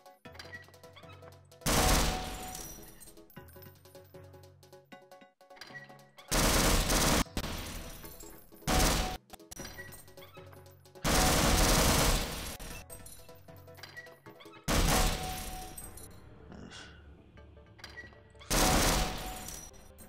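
Video game gunfire in a Half-Life parody, bursts of rapid automatic shots and heavier blasts in separate volleys, loud and close, with quieter gaps between them.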